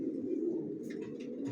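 Racer pigeons in a loft coo softly and close by in a low, rolling burr. A few faint chirps and rustles flicker above it near the end.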